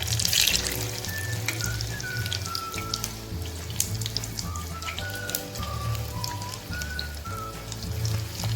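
Alu vadi, colocasia leaf rolls, fry in hot oil with a steady, dense crackling sizzle, close and even. Faint background music plays over it and no one speaks.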